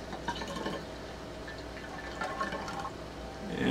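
Liquid yeast poured into a starter, a soft continuous splashing and trickling with faint clinks, low in level and heard alone without speech.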